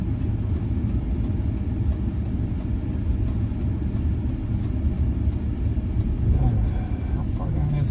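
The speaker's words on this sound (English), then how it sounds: "I love the sound of those trucks going over top of us." Heavy trucks rumble across an overhead road above a spot beneath it during a storm chase in Appalachia, a continuous low roar that swells near the end, with voices talking throughout.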